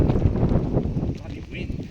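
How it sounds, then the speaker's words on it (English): Wind buffets the microphone on an outdoor walk with a continuous low rumbling roar that masks everything else, with a voice faintly beneath it. "Bloody wind."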